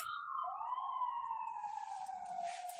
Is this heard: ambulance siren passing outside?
yes